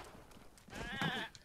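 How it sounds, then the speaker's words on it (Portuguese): A goat in Zelda: Breath of the Wild lets out a single wavering bleat in the middle of the clip, moderately close, over faint ambient game sound. "Olha um bode."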